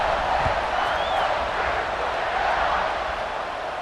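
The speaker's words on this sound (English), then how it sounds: "this crowd now ready to get behind them" A stadium crowd in the EA Sports College Football 26 video game roars in a continuous, dense wash of cheering that holds steady and loud throughout, with no commentary over it.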